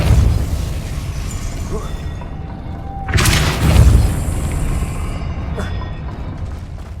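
The Depulso spell fires in Hogwarts Legacy with a deep whooshing boom and a bright burst, followed by a fading rumble over a steady ambient game background, close and fairly loud.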